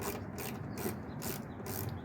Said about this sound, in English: using a 1/4" drive ratchet with a 10mm socket.